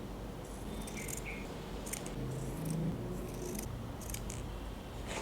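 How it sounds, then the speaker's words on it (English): Scissors snip away the curly selvedge edge of a fabric strip in several quick, close, crisp cuts with short pauses between them. "The selvedge, the edge of the fabric here, is a little curly, so I will cut this away just a little."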